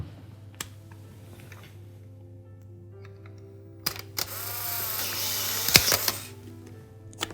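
A camera on a table snapping a selfie, a short sharp shutter click near the end of a fairly quiet stretch with a brief burst of mechanical noise around it.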